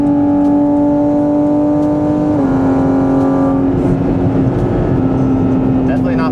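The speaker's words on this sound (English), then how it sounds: "Downshifts are so satisfying." A Porsche GT4 RS engine drones loudly from inside the car on a road drive, its steady tone dipping briefly at a gear change before carrying on at high volume.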